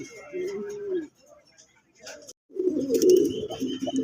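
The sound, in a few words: pigeons cooing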